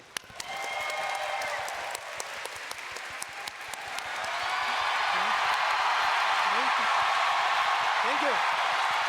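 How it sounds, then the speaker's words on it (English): A large crowd at the Final Fantasy XIV Fan Fest breaks into sustained applause and cheering, starting with scattered clapping and swelling into a loud, continuous roar with whoops near the end. "They're cheering for Soken."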